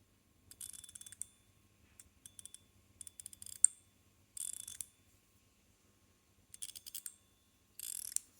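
A Gao Studio Richcoin Strong Wind fidget toy fresh out of the box sounds in short bursts of dry, rapid ratcheting clicks, crisp and close in a quiet room, with brief silent pauses between spins.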